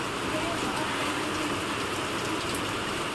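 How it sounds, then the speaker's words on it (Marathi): Rain falling steadily, a dense, even hiss of drops on surfaces outdoors, constant and fairly loud with no breaks. "आणि पाऊस सुरू झाला"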